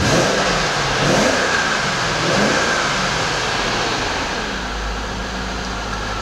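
A BMW car engine running in a workshop, revving up and settling back, loud and close with a steady broadband roar and a couple of throttle swells, no talking.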